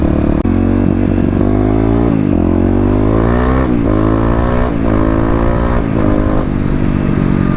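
A fuel-injected Kawasaki KLX351 motorcycle accelerates hard and close, its engine note climbing through repeated rising pulls with brief dips between gear changes, loud and continuous throughout.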